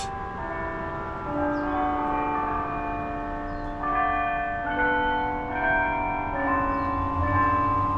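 A church bell rings out at twelve o'clock, its long overlapping tones sustained and fairly loud throughout with no talking.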